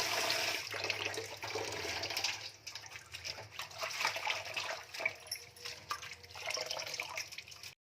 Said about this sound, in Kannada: ಸೊಪ್ಪು ಕ್ಲೀನಾಗಿ ತೊಳ್ಕೊಬೇಕು, ಇಲ್ಲಾಂದರೆ ಮುಳ್ಳೆ ಇರ್ತದೆ